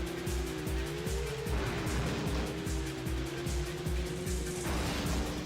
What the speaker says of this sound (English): revving of the other cars.